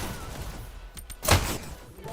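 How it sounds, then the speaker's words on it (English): A shotgun fires in a VR e-sports shooter match: one loud, sharp blast midway, preceded by a couple of softer thuds, over a steady background game ambience. "Got Neptune popping off with the shotguns and gets the team wipe"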